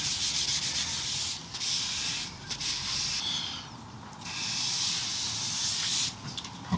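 Close, steady rubbing as teak oil is worked into wood, a hissing scrub in long strokes with short pauses between passes.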